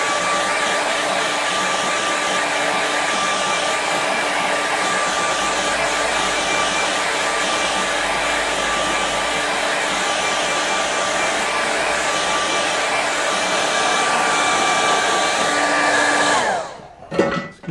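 Hair dryer blowing over a watercolour painting, a loud steady whirring roar held for about sixteen seconds before it is switched off and winds down abruptly.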